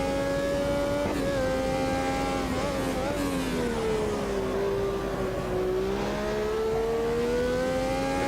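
In the racing game Automobilista 2, a Brabham BT46 fan car's V12 screams close up with continuous high engine tone, rising and falling as revs change through corners, loud and without pause.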